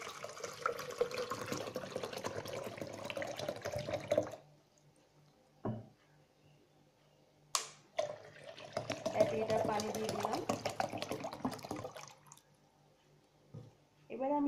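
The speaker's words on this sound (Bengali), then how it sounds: "ব্লেন্ডারে 1 লিটার পানি দিয়ে দিচ্ছি।" One litre of water pours into a blender jar in two bursts, each a close, splashing stream lasting several seconds, separated by a quiet gap with a few clicks and knocks.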